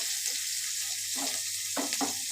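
Chopped onion sizzling in hot oil with whole spices as a Bengali doi rui dish is cooked, giving a steady, bright hiss with a few soft stirring scrapes near the end and no voices.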